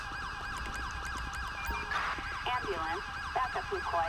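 Ambulance siren in GTA 5 wails in a fast, repeating up-and-down sweep, fairly faint and steady, overlapped midway by other siren tones in a busy police scene.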